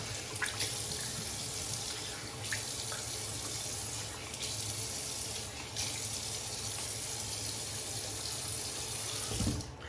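Tap water runs steadily into a sink at a bathroom basin while the face is wetted before a straight razor shave, a soft continuous splashing with a few brief louder splashes, fairly quiet and close.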